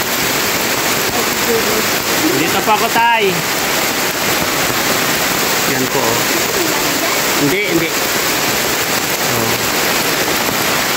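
Heavy rain pours down at a house as a loud, constant wash of hiss. People talk briefly over it, and a few bird calls cut through the downpour.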